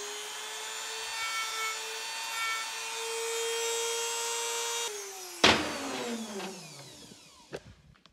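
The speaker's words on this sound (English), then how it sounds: "A little sanding bit, knock those edges down." A steady high-pitched whirring of a small rotary sanding bit smoothing metal edges on a Ford Dana 50 TTB axle part, continuous for several seconds, then it winds down with a sharp clack and a couple of knocks.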